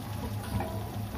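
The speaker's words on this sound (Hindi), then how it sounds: "अब हम डालेंगे पानी" Water, about half a cup, pours into a frying pan while chilli potato cooks, making a soft continuous trickling splash that stays quiet and close throughout.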